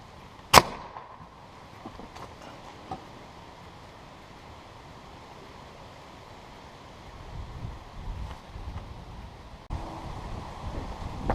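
An air cannon rope gun fires at 100 psi through a 2.5-inch, 4-foot barrel, launching 100 feet of rope: one sharp loud outdoor pop followed by a long stretch of wind noise and faint rustling.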